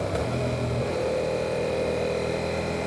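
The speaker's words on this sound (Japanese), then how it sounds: "ちょっとギアを落として2速に入れたいと思います。" A Yamaha MT-07 motorcycle's engine at about 4000–5000 rpm on a mountain pass road, downshifting to second gear: a steady, close mid-pitched engine drone with a slight shift in tone early on, heard alone without talk.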